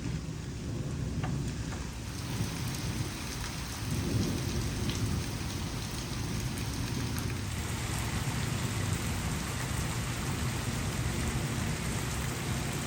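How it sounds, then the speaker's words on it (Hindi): Heavy rain pours down in a village, a dense steady hiss of drops on surfaces, with deep rolls of thunder rumbling beneath. "बारिश इतनी तेज़ हो गई है"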